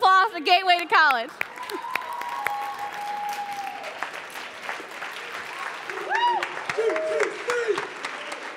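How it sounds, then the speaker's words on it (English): Audience applause at a Gateway to College event, a brief burst of clapping under a voice at the start, then a steady wash of applause with tonal voices and whoops rising through it. "give a big round of applause for Gateway to College"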